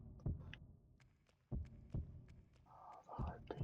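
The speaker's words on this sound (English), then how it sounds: "Oh, the heartbeat." A deep, muffled heartbeat pulses in slow thumps during Castlevania: Lament of Innocence on PS2, with faint whispery game ambience between the beats.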